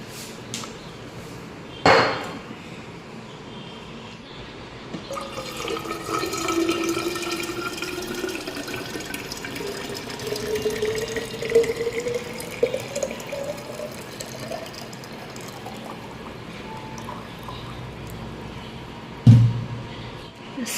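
Freshly heated hot water is poured out in a steady, moderately close stream for several seconds, with a soft thump near the start and a louder knock near the end, and no talk.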